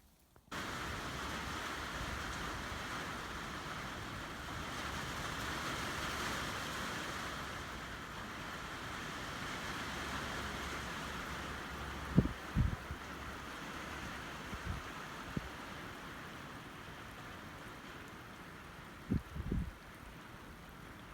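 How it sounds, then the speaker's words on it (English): Steady rain falls around a hunter's hay-lined stand during a Pennsylvania rifle deer hunt, a soft even hiss with wind and a few faint knocks and taps, and no one speaking. "I just checked the weather and it's supposed to keep raining all day."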